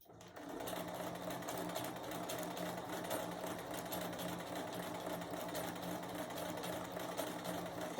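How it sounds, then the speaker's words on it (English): A sewing machine stitches quilt fabric in a steady, continuous hum that holds even and close for the whole stretch, with no talking over it. "And then just sew."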